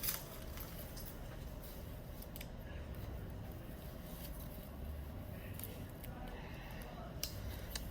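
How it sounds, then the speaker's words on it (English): Scissors snipping through the binding string of a hand-sewn journal, a few faint quick clicks close by under soft handling noise, with a person talking. "Then we're going to cut the string right about there."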